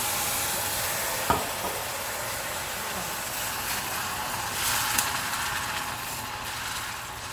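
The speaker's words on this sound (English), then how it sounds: "all that sizzling will get the brown bits off the bottom of the pan" Steady loud sizzling of red wine in a hot pan, continuous frying hiss with a couple of faint clinks.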